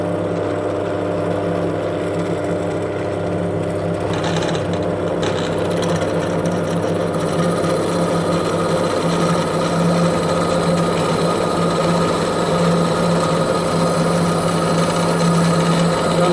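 A Parkside PTBM 500 D4 bench pillar drill runs with a steady motor whine and hum, a brief grinding burst as the bit bites in, continuing loud throughout.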